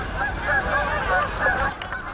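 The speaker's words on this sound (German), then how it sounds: "jetzt kommen die Gänse" A flock of geese honks continuously and fairly close, with overlapping nasal calls that keep a busy, uneven rhythm throughout.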